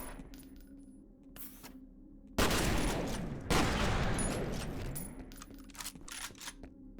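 Shotgun gunfire in the video game F.E.A.R., two loud blasts a second apart, each with a long decaying roar, amid quieter combat sounds.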